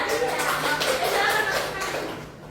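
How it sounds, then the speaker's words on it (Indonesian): A class of children claps together in a dense, steady patter for a couple of seconds, with children's voices mixed in. "tepuk tangan untuk kita semua ya"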